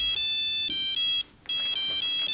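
A mobile phone ringtone plays close by, a bright electronic melody of repeated tonal phrases broken by one brief gap, with no voices.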